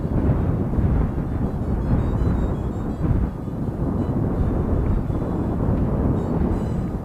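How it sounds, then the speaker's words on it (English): A Jetstar airliner arriving from Cairns gives a loud, rumbling roar that stays steady throughout, thick with low-end and wind buffeting and no voices over it. "And then we've got this Jetstar coming in from Cairns"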